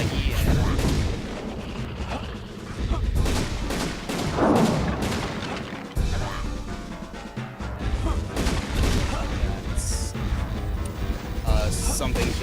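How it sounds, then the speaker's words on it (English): Shotgun blasts ring out in the PAL version of Castlevania: Legacy of Darkness as a dense run of booming shots over continuous game noise, while a player talks throughout. "I got the shotgun hit at the very end there, so I only got 4 shots in"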